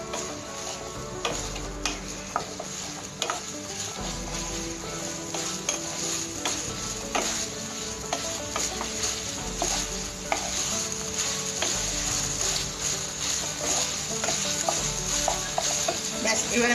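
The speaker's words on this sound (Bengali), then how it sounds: "আর 1 মিনিট মতো এটাকে আমি নাড়বো।" Homemade khoya drying in a pan on a gas stove, stirred with steady scraping and soft clinks over a continuous low sizzle, close and even throughout, with no voices.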